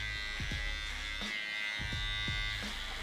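An electric shaver buzzes steadily while cutting hair on the neck and around the ear during a drop skin fade at a barbershop, its close, continuous hum shifting slightly in pitch as it moves across the head.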